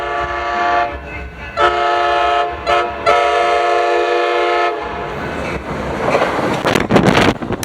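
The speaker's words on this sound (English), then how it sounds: "Amtrak 595 will roll on through with cab car" Amtrak 595 rolls through Carlsbad Village Station with cab car 6952 leading, its horn blaring loud and close in several long and short blasts before giving way to rumbling wheels and rail noise.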